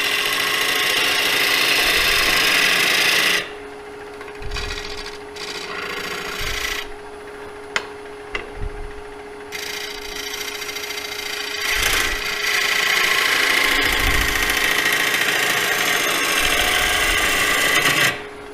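Ellsworth bowl gouge cutting a free log into a bowl on a wood lathe, a loud rough rasping hiss that breaks off mid-clip into quieter scraping, then returns strongly.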